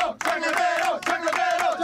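An audience cheers and shouts loudly for a singer, a dense burst of crowd voices rising in two swelling waves.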